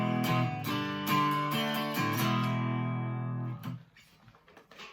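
An electric guitar on its neck pickup gives a mellow tone, a few picked notes and chords ringing out clearly and then fading to quiet.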